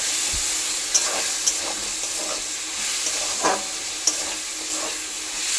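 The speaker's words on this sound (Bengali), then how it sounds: "দেখো এটা আস্তে আস্তে ভাজা হতে থাক" Garlic paste frying slowly in a pan with onions already browned, a steady soft sizzle and hiss with faint scattered crackles and a few light stirring clicks throughout.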